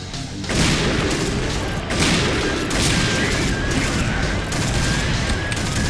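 Barrett and Kar98k sniper rifles fire in a shooting video game as loud, dense booming shots, with several heavy blasts overlapping into a continuous roar across the whole stretch.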